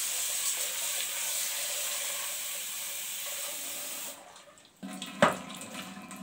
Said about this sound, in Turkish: Önce onu bir güzel yıkayacağım.